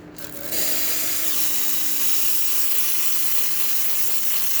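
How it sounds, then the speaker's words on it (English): Steam from the wand of a freshly serviced and descaled Lelit Bianca V3 espresso machine: a loud, continuous hiss that kicks in abruptly after a moment of quiet and stays steady to the end. "Good steam coming out of there"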